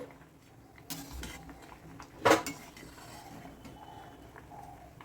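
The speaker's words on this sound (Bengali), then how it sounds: "ঢাকনাটা সরিয়ে নিচ্ছি দেখো আমের স্লাইসগুলো বেশ ভালো ফুটে উঠেছে" A metal lid clinks against a pot of simmering mango slices, one short sharp clatter in the middle of a quiet kitchen with faint background bubbling.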